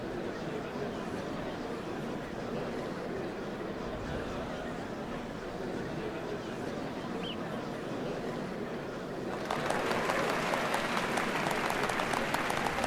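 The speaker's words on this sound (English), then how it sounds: "What a crowd!" A large crowd in Final Fantasy XIV: Dawntrail applauds steadily at the changing of the Dawn Servants, a dense wash of clapping that swells louder near the end.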